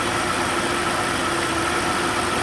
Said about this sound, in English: we can hear a change in the engine